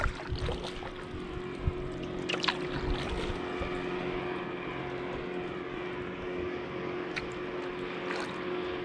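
A steady engine drone hums throughout from a motorboat running at a distance on Tuckertown Reservoir, heard from a kayak, with faint wind and water noise.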